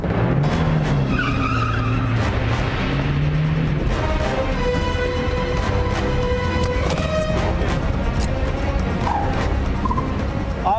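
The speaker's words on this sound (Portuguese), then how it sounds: "Vou acelerar o carro." A car accelerates hard with tires skidding and squealing on pavement in a stunt test, a continuous loud roar of engine and tire noise with shifting squeals throughout.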